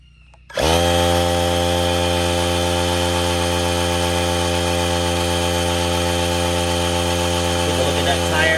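An ETENWOLF Zephyr S3 portable air compressor switches on to inflate a car tire, starting abruptly and then running as a loud, steady buzzing motor drone with strong harmonic hum, close and alone for the rest of the clip.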